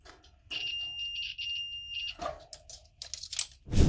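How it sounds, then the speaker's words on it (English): A steady high-pitched multimeter continuity beep holds for about a second and a half as the leads touch, followed by clicks and rustling handling noises. "when you touch each end of the leads together, you'll get a beeping noise"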